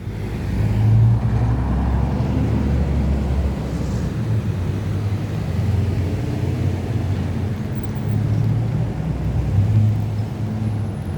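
A truck rumbles along a city street, a steady low drone of engine and road noise that swells slightly now and then, with no voices over it.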